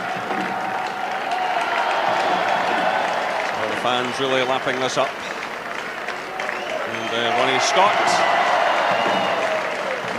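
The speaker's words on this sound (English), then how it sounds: "milking the applause, and rightly so." Football fans applaud and cheer at the 1995 Scottish Cup Final between Camelon and Whitburn, a broad crowd roar with clapping that carries throughout and swells near the end, while a commentator talks over it at intervals.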